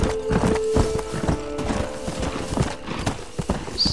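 Horse hooves clip-clop in a quick, steady galloping rhythm in the Red Dead Redemption video game, loud and close with the game's ambient sound beneath.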